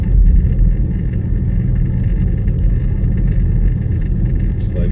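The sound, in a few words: car driving at night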